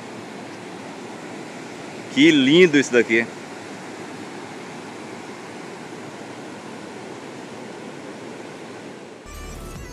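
Steady broadband rush of falling water from the Couros waterfall in Chapada dos Veadeiros, Brazil, fills the whole clip, with a brief burst of excited speech near the start.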